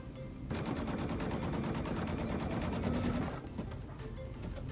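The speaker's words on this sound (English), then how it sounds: "And we will stitch those placement lines." Embroidery machine stitching the placement lines for a purple floral appliqué, a close, rapid, even needle rattle that runs steadily and then eases slightly near the end, with no talking.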